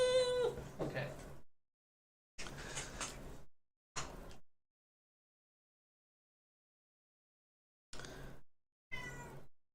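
A cat meows a few times in separate short bursts with long silent gaps between them, fairly close and moderately loud.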